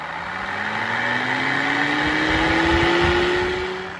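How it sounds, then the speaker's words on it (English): A hoop house ventilation fan spins up with a steady whirring hum whose pitch rises gradually as it gains speed, loud and continuous, with no talk over it. "check and let me know if the fan is blowing out or if it's drawing in"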